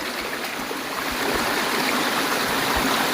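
Rushing water pours steadily and loudly at night through a coffee plantation flooded after a forest pond burst, a dense continuous close roar of flowing stream water with no talking.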